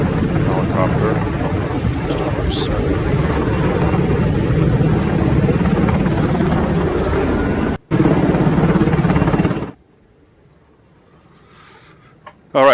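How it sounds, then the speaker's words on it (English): A second helicopter hovering over Washington, DC, a continuous loud rotor and engine rumble with a brief dropout, cutting to near silence for the last few seconds. "That there is a second helicopter."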